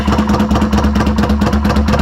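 A custom motorcycle engine running, a loud close rumbling idle with a steady, slightly uneven pulsing throb throughout the short stretch.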